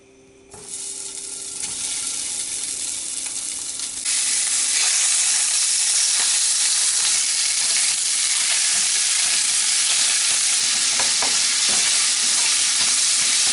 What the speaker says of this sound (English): So I'm just going to cut the sausage, cut the casing, and then just brown the sausage.